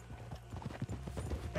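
Horse hooves clip-clop on ground in the video game Red Dead Redemption 2, a quick rhythmic run of hoofbeats heard fairly faintly for a moment.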